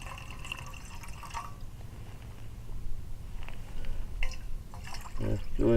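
Water from a hot water bottle pours and trickles with a soft, steady splash, close and fairly quiet, rising slightly toward the end.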